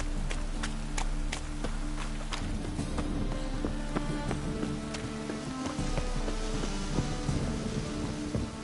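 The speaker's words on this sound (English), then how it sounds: "Rain again." Steady rain hisses and patters throughout in The Witcher 3, with low droning tones and scattered clicks and knocks mixed in underneath.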